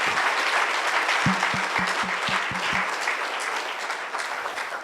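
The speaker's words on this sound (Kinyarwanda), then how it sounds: "mukomere Imana amashyi" Church congregation clapping, a continuous close burst of applause throughout, with a series of low rhythmic thumps partway through and no clear speech.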